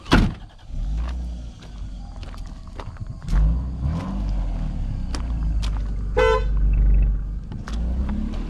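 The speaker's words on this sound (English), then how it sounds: "Oh, the horn works, huh?" A Lexus GS300 with its engine running gives a few short horn toots amid idling car noise and clunks, close and fairly loud.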